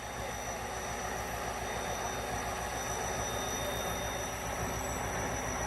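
At Landi railway station a train rolls in on the track with a steady rumble and rhythmic wheel clatter, moderately loud and continuous, with thin high squealing tones running above it.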